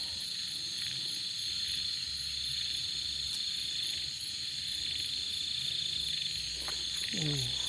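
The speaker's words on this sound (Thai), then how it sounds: "ไปตามเสียงนะครับ จิ้งหรีดเนี่ย" Steady high-pitched cricket chirping runs throughout, with frogs croaking low underneath and a short croak near the end; quiet outdoor night ambience in rural Thailand as rain approaches.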